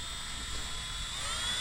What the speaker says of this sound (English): We're going to start running the drill and the brush through it